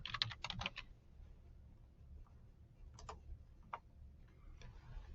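Keystrokes on a computer keyboard as a search is typed, a quick burst of several clicks at the start followed by scattered single taps over a low room hum, close and fairly quiet.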